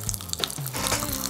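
Green Pop Rocks candy crackling and popping inside a mouth, a close, busy fizz of tiny snaps over about a second, with no talking.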